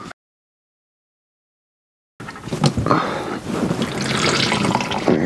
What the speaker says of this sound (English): I'm gonna let that drain.